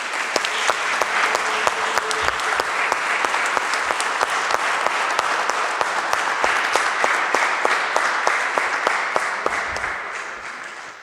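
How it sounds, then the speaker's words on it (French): A church congregation at a first Sunday of Advent Mass applauds to welcome newcomers: a full, sustained round of clapping from many people in a large room, steady throughout and tapering slightly at the end. "on va quand même les applaudir comme signe d'accueil officiel chez nous"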